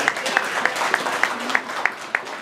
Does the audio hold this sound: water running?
no